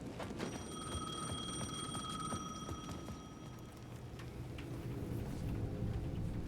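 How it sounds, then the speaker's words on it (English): Payphone ringing at the edge of a plaza in the video game Alan Wake 2: a faint, thin electronic ring with steady tones, set low under a dense, noisy ambient background, with no talking. "The payphone at the edge of the plaza was ringing again."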